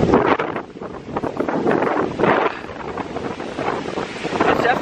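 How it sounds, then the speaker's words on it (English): Strong hurricane wind buffeting an unfiltered microphone outdoors during Hurricane Ian, loud rumbling gusts that swell and ease throughout without pause. "if it's windy out here, and you can hear that, that's because there's a hurricane going on"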